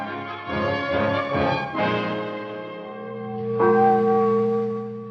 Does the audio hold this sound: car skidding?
no